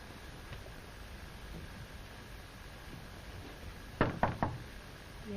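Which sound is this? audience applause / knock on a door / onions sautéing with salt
knock on a door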